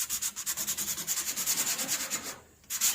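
80-grit sandpaper rubs back and forth over a low spot on the bodywork of a 1970 Cougar in quick, even strokes, a rhythmic hissing scrape that breaks off briefly near the end and then resumes.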